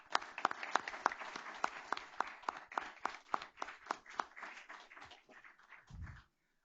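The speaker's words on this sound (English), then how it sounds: "give our schools and students a round of applause for their heartfelt thoughts" A modest audience at a school board meeting claps for schools and students, producing distinct, fairly sparse handclaps that thin out and stop after about six seconds.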